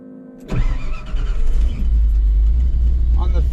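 A truck engine cranks and fires up at about half a second, then settles into a loud, steady, low idle rumble that carries on to the end, close by.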